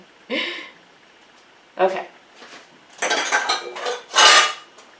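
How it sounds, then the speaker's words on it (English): A reusable coffee filter from a cold brew batch is dumped out and rinsed at a kitchen sink, with several separate bursts of clattering, knocking and rushing water, close and fairly loud, with pauses between them. "Dump that out. And give it a rinse."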